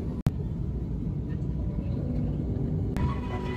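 Airliner touching down and rolling out, a steady loud low rumble of engines and runway noise filling the cabin, with two sharp clunks near the start and end.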